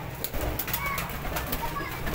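Sialkoti pigeons coo and flap their wings in a loft alongside a larger flock, a continuous busy mix of soft cooing and wingbeat flutters close by, with occasional brief sharper bursts.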